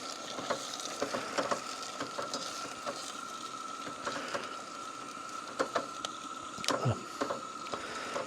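Sausages cooking in gravy over a camp stove, stirred with scattered scraping clicks and soft taps over a steady low sizzle, close and fairly quiet, with no talk.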